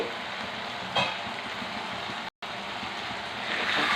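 Chicken boiling in water in a pot, giving a steady, dense bubbling hiss close by that carries on with only a very brief break, with no talking.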